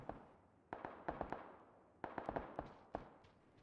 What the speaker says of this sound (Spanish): se escuchan nuevamente disparos